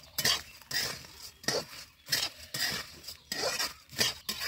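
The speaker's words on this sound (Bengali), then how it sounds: "মুড়ি দিলাম, ভেজে রাখা এই সব জিনিসগুলো ঢেলে দিলাম, এইভাবে কিছুটা সময় নাড়াচাড়া করে নেবেন" Puffed rice, carrots and fried ingredients are tossed in a pan, giving a rhythmic series of close scraping and rustling stirs, roughly one every half second, with light clinks of the utensil against the metal pan.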